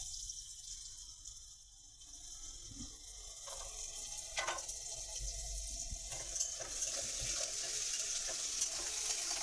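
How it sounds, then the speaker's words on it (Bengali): Capsicum, carrots, beans and fried chicken frying in a pan, a steady close sizzle with occasional stirring scrapes, no talking. "ক্যাপসিকামটাও একটু ভেজে নেব।"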